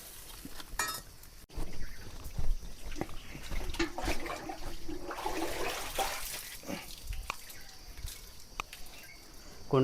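Water splashes and sloshes as a bucket is filled from a tank at a remote hermitage, with clinks of the metal pail and drips continuing steadily at close range, no voices.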